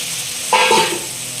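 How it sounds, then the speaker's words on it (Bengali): Fried soybean chunks and potatoes drop into hot spiced oil in a pan, and a sudden sharp sizzle bursts up partway through. The steady frying hiss continues close and loud after the low background. "এবার এর মধ্যে আমি দিয়ে দেবো আমার ভেজে রাখা সোয়াবিন আর দিয়ে রাখবো আলু"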